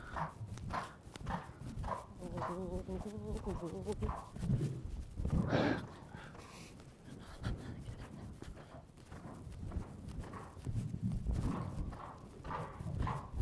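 Hooves of a young horse cantering in an arena, a rhythmic clip-clop of footfalls passing near and receding, with voices heard now and then.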